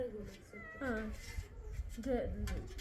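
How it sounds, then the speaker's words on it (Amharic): A cat meows in a kitchen where young chickens are being cut up. The meows are short and rise, one near the middle and another near the end, with voices and household noise underneath. "ድመት ነው ድመት"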